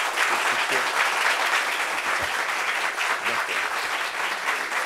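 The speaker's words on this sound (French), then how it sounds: "Est-ce qu'on peut lui porter des acclamations d'encouragement?" Sustained audience applause of encouragement at a public gathering, dense and steady throughout, a large group clapping together at fairly close range with no break.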